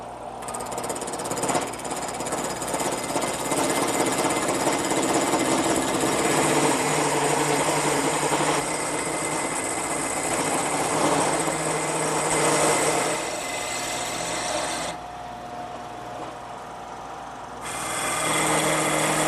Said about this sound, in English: I use the top, which is a nylon follower, to go along my template, and the bottom, which is a cutter, to remove the stock.